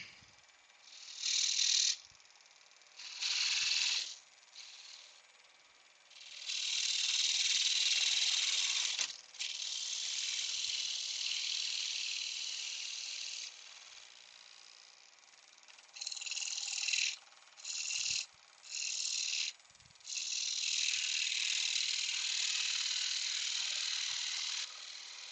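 A wood lathe turns an upside-down bowl with a spindle gouge, giving bursts of high hissing, scraping cuts that start and stop repeatedly, separated by quiet pauses.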